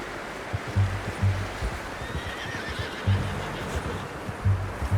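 A horse in Red Dead Redemption 2 lets out several whinnies and snorts among steady clip-clop hoofbeats, close and fairly loud over a soft outdoor ambience.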